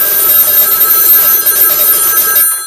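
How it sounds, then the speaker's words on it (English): A telephone rings loudly and continuously for over two seconds, a buzzing bell-like ring from a central-office telecom analyzer's ring cycle, then cuts off abruptly. "going to put it through a ring cycle as though we were getting a call"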